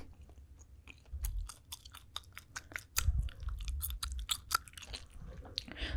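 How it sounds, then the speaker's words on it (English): Someone chews gum close to the microphone, with wet, irregular smacks and clicks over low jaw thumps, fairly quiet and steady. "Also, today I'm chewing a gum."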